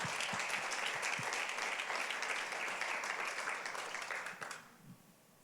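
A women's church retreat congregation claps for the Lord, a steady roomful of applause that holds for about four seconds, then tapers off quickly into quiet.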